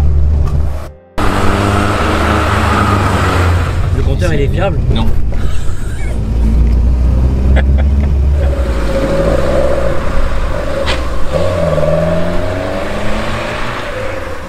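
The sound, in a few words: Renault 5 Alpine car engine accelerating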